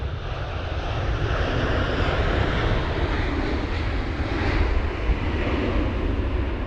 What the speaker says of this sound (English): there is the Emirates 777-300